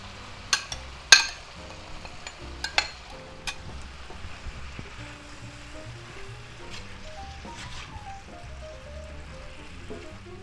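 Sliced peppers, onions and green peppers drop into a hot pan for fried cabbage with sausage, a few sharp clatters up front, then a faint, soft sizzle continuing underneath.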